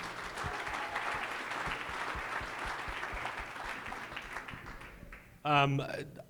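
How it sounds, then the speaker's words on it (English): Sustained applause from a crowd at a chamber of commerce luncheon, steady clapping filling the room, with a voice briefly speaking at the end. "Give yourself a round of applause for coming out."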